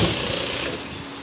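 A sewing machine stitches at a slow, steady pace, giving a continuous buzzing rattle for a brief moment at low volume.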